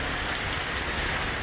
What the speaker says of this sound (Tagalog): Ayan, malakas ang ulan.